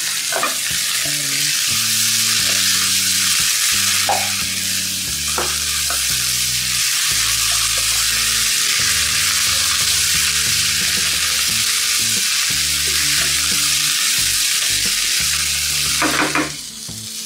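Boiled potatoes stirred and mixed in a hot pan for samosa filling, with steady scraping and frying sizzle running continuously alongside a loud, patterned musical backing throughout.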